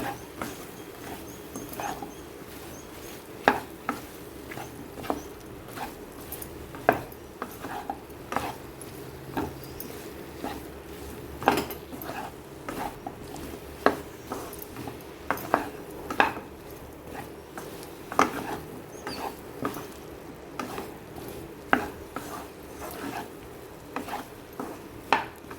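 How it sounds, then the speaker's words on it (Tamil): Drumsticks coated in masala are tossed in a pan for a Tamil drumstick poriyal, with irregular scraping, clinks and knocks of a spoon against metal recurring every second or two under quiet background. "இந்த முருங்கைக்காயை நல்லா எல்லா முருங்கைக்காயிலையும் மசாலா படுற அளவுக்கு நல்லா பிரட்டி விட்டுக்குவோம்"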